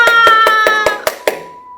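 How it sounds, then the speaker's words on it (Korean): Seven sharp, evenly spaced claps ring out close by at a senior citizens' university program, each with a bright tonal edge, followed by a brief sustained tone as the claps stop. "크게 박수 한번 쳐보겠습니다"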